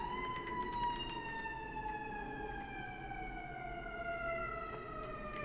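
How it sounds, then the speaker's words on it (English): A wailing emergency vehicle siren outside, with rising and falling tones sustained steadily throughout at a moderate, somewhat distant level, over a background hum. "Siren is on my side."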